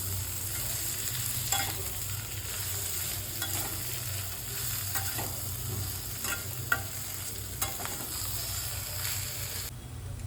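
A spoon stirs potato masala dosa filling with turmeric in a pan, scraping and clinking in uneven strokes over a constant soft sizzle, close and moderately quiet.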